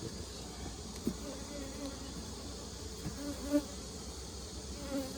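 Honey bees buzz continuously around a hive full of queen cells, a close, steady drone with individual bees passing near now and then, and quiet talk in the background.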